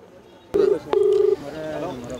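An outgoing phone call to a hospital official produces a ringback tone: two steady electronic bursts, one short and one longer, with faint background noise after them.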